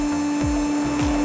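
An RS 380 DC motor runs at 6 volts, around 13,000 to 18,000 RPM, giving a steady high-pitched whine with a constant tone, close and loud, with no talk.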